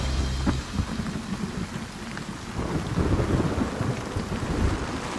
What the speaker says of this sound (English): It's cold and it's rainy and I'm stuck in my tent because it's miserable outside.